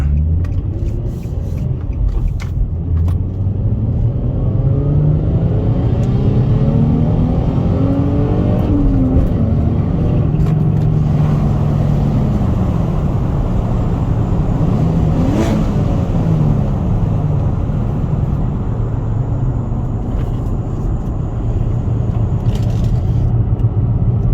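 A warm 2019 VW GLI with a manual gearbox revs hard under acceleration from the driver's seat, a loud, continuous engine roar climbing through the revs with a brief dip at a gear change before pulling again.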